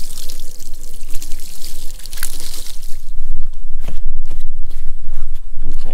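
Water is poured over a gunky, hazy plastic part, giving a steady splashing trickle that turns into choppier sloshing and handling clatter midway.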